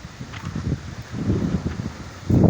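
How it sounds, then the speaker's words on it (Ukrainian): Gusty wind buffets the microphone with low, uneven rumbling that swells and surges, growing loudest near the end. "Вітер страшний, будуть сильні поміхи."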